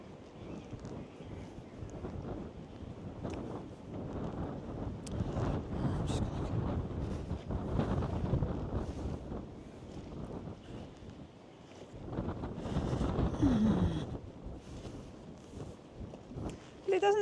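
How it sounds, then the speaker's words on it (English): Strong wind gusts across a microphone on a winter walk through Elsecar Park, a steady broadband rumble that swells and buffets, with people talking over it and footsteps now and then. "It's just very windy, so it brings the temperature down something"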